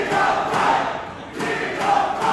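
Wrestling event crowd cheering for a wrestler, a rising and falling roar in waves, with surges at the start and again near the end, no clear talk over it.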